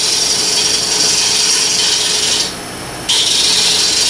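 A wood gouge makes gentle push cuts on a spinning Bradford pear bowl on a lathe, giving a loud, continuous hissing rasp of shavings that drops out briefly for a moment before resuming.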